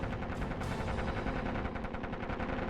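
Browning .303 machine guns fired from a Lancaster bomber's hydraulically powered turrets, a dense, unbroken roar of rapid gunfire that stays loud and steady with no pauses.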